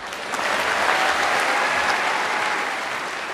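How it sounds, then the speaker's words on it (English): Conference delegates applaud the First Minister at the Scottish National Party spring conference, a dense, sustained wash of clapping from a large hall crowd, loud and even throughout. "Final applause from the delegates at the conference there."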